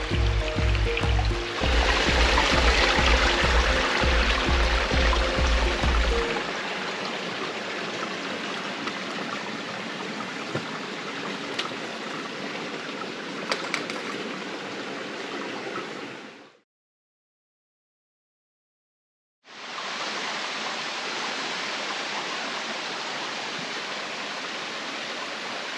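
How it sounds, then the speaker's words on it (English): Stream water flows steadily through a fern-filled gorge, a continuous broadband rushing close by, with a short break of silence before the flow resumes. "Ferns, and we're just listening to the water."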